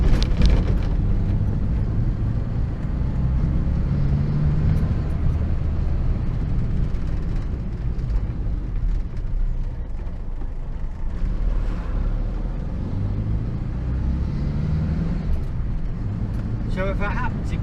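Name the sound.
Morris Minor car driving around the block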